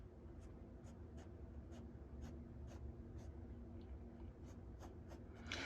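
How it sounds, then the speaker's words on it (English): Pencil drawing on paper gives quiet, close scratchy strokes in a steady rhythm of short swipes, faint and alone. "I'm gonna draw something else."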